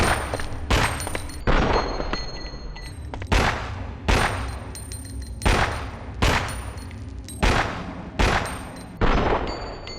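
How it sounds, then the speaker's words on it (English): Pistol shots in Resident Evil Outbreak File 2 ring out one at a time, about eight loud, sharp cracks at a steady pace, each trailing off into a short echoing tail, with no talking. "it has an interesting firing sound. It sounds a little weaker than some of the other pistols I've been going over so far"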